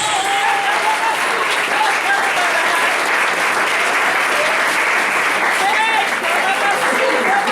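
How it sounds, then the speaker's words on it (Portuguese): A church congregation in Arapongas applauds loudly and continuously, a thick, sustained roar of clapping throughout, with a preacher's voice carrying over it. "Aplauda Jesus."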